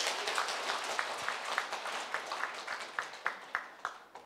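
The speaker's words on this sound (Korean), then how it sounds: "박수 부탁드립니다." Applause at an anniversary ceremony for a Buddhist broadcaster in Busan, as a monk is invited up to speak; steady clapping from a moderate crowd with a few sharp individual claps standing out near the end.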